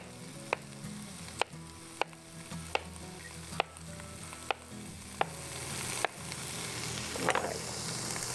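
Zucchini sizzles steadily in a hot pan, a continuous soft crackle broken by a regular series of sharp clicks or taps, with a louder stirring scrape near the end.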